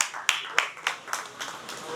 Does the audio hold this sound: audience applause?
yes